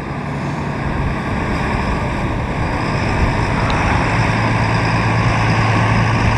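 Outboard-powered boat launching off a sandbank at an extreme boating event, a loud, steady motor roar blended with water wash and wind noise that continues for the whole stretch with no speech.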